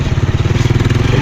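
A motorcycle ridden along a rough road in the rural Philippines, its engine throbbing in a fast, steady pulsing rhythm, close and loud.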